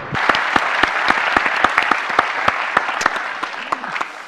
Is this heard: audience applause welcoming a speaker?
yes